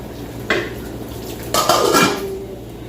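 Metal utensils stir food in a pot while cooking Arabic dishes, giving a couple of sharp scraping clanks with lighter metallic rattling between them and little talk.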